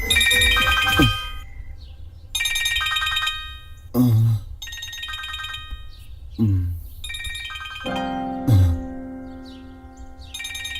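A mobile phone ringtone plays loud and close for an incoming call, a bright melodic tune in repeated phrases with short gaps, no talk over it.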